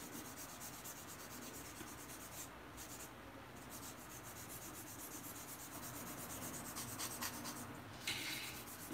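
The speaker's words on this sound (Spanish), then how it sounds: "Lo más fiaca de las presón es esto. Es pulir los tips." Press-on nail tips are filed and buffed, a steady, close, continuous scratchy rubbing with brief pauses, no voices.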